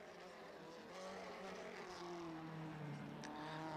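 A faint 1958 Formula One race car engine at the Portuguese Grand Prix drones steadily, its pitch easing downward as the driver lifts off early to save the brakes, with no voices.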